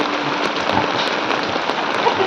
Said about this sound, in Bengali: বৃষ্টি হচ্ছে, কি মজা!